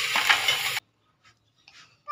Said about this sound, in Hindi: ये मैं अब कलेजी शामिल कर दी मैंने ऑयल में।